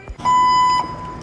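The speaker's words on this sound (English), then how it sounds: "Forklift truck." Toy forklift truck giving a brief, steady electronic beep, a single close tone lasting about a second.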